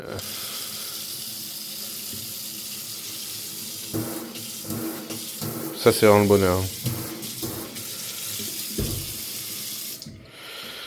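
Water runs steadily from a faucet in a house under renovation, with a brief splashing burst partway through, while a person speaks over it before the flow stops.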